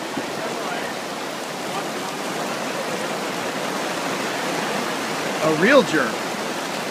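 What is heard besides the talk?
heavy rain downpour at an outdoor wedding ceremony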